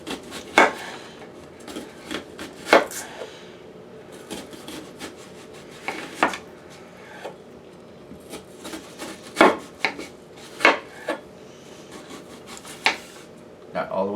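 A knife slices repeatedly through a cooked meatloaf, giving soft rasping cuts in irregular bursts, close by, with a voice talking intermittently over the cutting.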